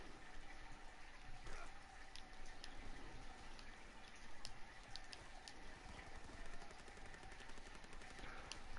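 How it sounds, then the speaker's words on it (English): Faint, distant gunfire in a World War II video game crackles in scattered rapid bursts over a low, noisy background. "I hear a lot of gunfire on that side"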